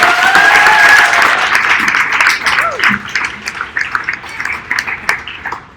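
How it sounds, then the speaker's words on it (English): Audience applause at an event, starting as a dense burst of many hands and thinning into scattered, irregular claps, with voices and a whistle-like tone heard briefly near the start. "please give a warm round of applause for Vaidiki."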